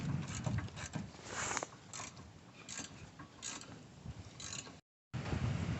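A ratchet clicks in bursts while undoing 15mm rear brake caliper holder bolts on a car with an electric parking brake, close and mechanical, with a brief silent gap near the end.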